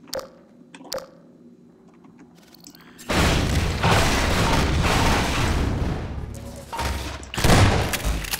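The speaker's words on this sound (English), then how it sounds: "One zombie took five shotgun hits." Shotgun blasts hitting zombies in the video game Half-Life 2: after a quiet start with a couple of sharp taps, loud sustained booming gunfire and impacts fill the rest, with a heavy burst near the end.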